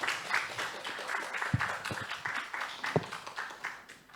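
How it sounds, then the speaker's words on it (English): Audience applauds panel speakers at a leadership forum, a soft, steady patter of many hands clapping from a modest crowd, fairly distant and fading toward the end. "Let's have our a round of applause for our three speakers this morning."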